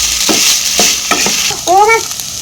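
Boiled Maggi noodles stirred in a frying pan: several scraping, rustling strokes of a spatula over a low sizzle, close and fairly loud, ending in a short squeaky scrape.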